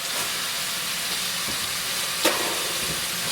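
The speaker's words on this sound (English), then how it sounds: "I want to brown up this meat a bit" Meat browning in a pan with paprika, chili powder and salt gives a steady broadband sizzle throughout, with one brief sharp clack partway through and no talking.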